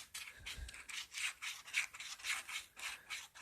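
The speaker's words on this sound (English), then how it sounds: "I'm using some medium grade sandpaper, and I'm just going to run this ever so lightly over it a few times." Medium grade sandpaper rubbed lightly over a rubber idler wheel from a 1966 Rheem/Califone 1450 turntable, giving about seven rhythmic rasping strokes in quick succession, close and fairly soft.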